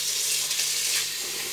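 Rice being washed under running tap water, a steady hissing splash of water pouring into the pot with no talk over it.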